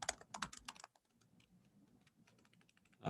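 Keys clatter on a computer keyboard in a quick burst of typing, then pause into quieter scattered taps before a louder flurry returns at the end, with no voices.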